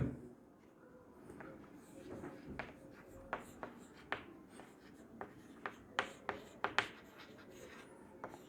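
Chalk or marker strokes on a board during a biology lecture on Mendelian inheritance, a run of sharp taps and scratches that grows busier toward the end, close and fairly quiet, with faint room noise and no talk over it.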